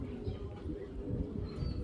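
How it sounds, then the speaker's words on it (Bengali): A male golden-eyed Belgian Janardan racing pigeon, bred in 2019, coos in low soft rumbles close by, with faint chirps and a voice speaking in the background. "এটা 19 সালের কবুতর"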